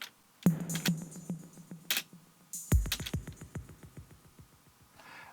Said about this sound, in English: So there's a ping-pong delay, and I think this is applied to almost all the basic drums.